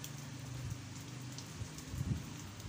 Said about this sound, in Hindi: यहाँ पे भी रेनफॉल इंटेंसिटी थोड़ी कम है, ड्रिजलिंग जैसा यहाँ पर जो है वो